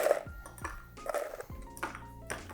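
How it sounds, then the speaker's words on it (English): Ice dropped into a cocktail glass, several distinct clinks and taps of cubes striking glass and each other, close and fairly crisp, with no talk. "Add in our ice."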